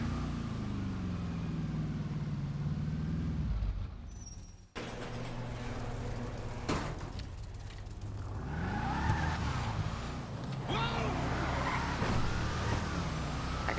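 A Gauntlet Interceptor car in GTA Online drives with a steady engine drone, revving and shifting pitch throughout, with a brief cut near the middle and no talking.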